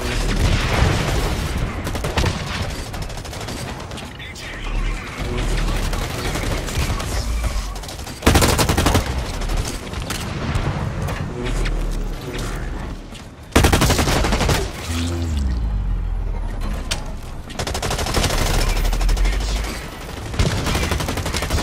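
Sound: gunfire in video game Blacklight Retribution

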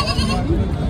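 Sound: goat bleating at livestock market

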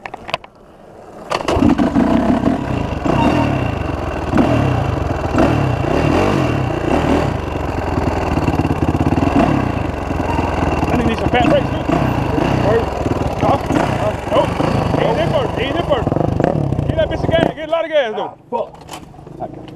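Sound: Suzuki RM 450 dirt bike engine revving

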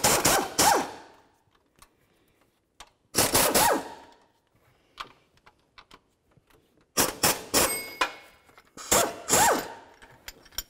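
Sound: ratchet removing 15mm tensioner bolts on Chevy Silverado

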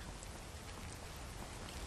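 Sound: rain falling in the video game Skyrim

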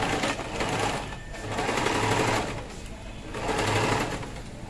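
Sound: sewing machine sewing round a cowl neck gown

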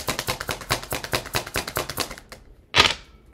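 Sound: shuffling and drawing tarot cards

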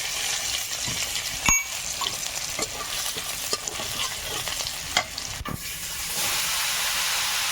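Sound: crushed garlic frying in hot oil in a wok

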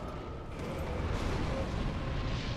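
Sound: explosion in video game Dark Souls 3

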